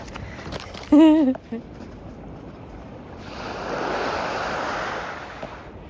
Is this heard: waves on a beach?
yes